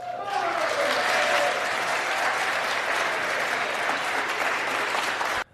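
Sustained applause fills the House chamber after the Speaker vote result is announced, a dense wash of many hands clapping at steady volume for several seconds before cutting off abruptly.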